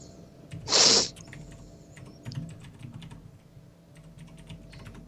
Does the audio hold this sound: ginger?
no